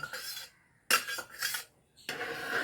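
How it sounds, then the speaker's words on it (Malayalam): Chana dal payasam being stirred in an uruli, a heavy traditional cooking vessel, for Onam: short bursts of metal scraping and rubbing against the pot, separated by brief pauses. "ഒന്ന് അലക്കി കൊടുക്കാം"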